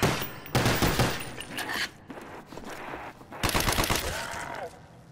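Rapid gunfire in a Call of Duty zombies match, dense overlapping bursts with short lulls between volleys, loud and close, with faint movement sounds in the gaps.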